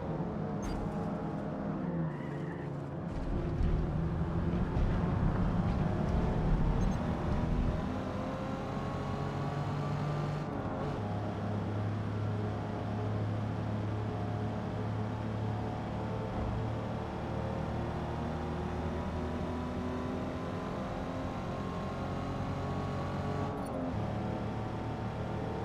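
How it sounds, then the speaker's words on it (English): Jaguar E-Type racing car in Gran Turismo 7, a steady engine drone with shifting pitch as it accelerates and holds speed, loud and continuous with no talk. "We're in the E-Type Jaguar."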